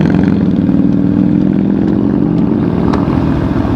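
A Kawasaki Ninja 300 motorcycle engine runs steadily, loud and close, with an even rumble and no voices over it.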